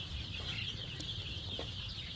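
Farm chickens, including desi hens, cluck sporadically around a feeding bowl, the calls soft and scattered over a steady background hiss.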